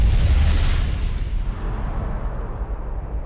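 A deep, loud explosion boom stands for the Big Bang, the birth of the universe. A heavy low rumble hits at once and then fades slowly over a few seconds, with no other sounds.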